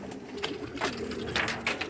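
A long-distance racing pigeon coos softly nearby, several rolling, throaty coos in a loose rhythm against a quiet background.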